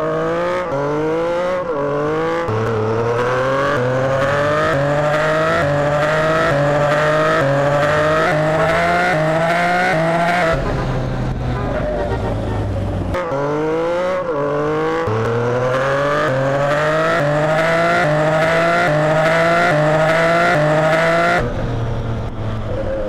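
A Yamaha MT-09 motorcycle pulls hard through repeated rising runs, engine note climbing and dropping at each gear change, loud and close from the rider's position, with no talk.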